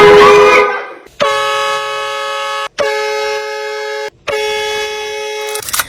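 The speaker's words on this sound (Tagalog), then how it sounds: "kapag busina ako, sa loob yung busina, sa mismong harap nila sa loob" A car horn custom-fitted to blare inside the cabin as a prank: three long, loud, steady blasts separated by short gaps, following a brief noisy rustle at the start.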